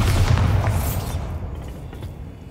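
Bombarda spell explosion in the video game Hogwarts Legacy: a loud, deep boom bursts at once, then rumbles and fades over a couple of seconds.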